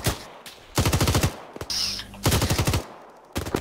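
A heavy machine gun in a military shooter video game fires in loud, rapid bursts, three long volleys separated by short pauses and a brief metallic clatter, then a final short burst, with no voices.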